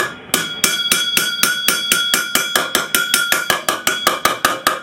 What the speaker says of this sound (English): At this point, you want to use nice light hammer blows.